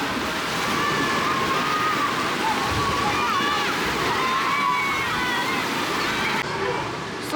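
Water sloshing and splashing at a water park on Jeju Island, a continuous rushing churn with scattered splashes, fairly close and loud, with faint voices.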